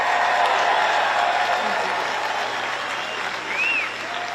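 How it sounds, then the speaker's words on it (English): Sustained, dense applause from a large crowd at a Trump campaign rally in Michigan, steady and loud throughout with cheering rising near the end. "can we all give a big round of applause to the governor?"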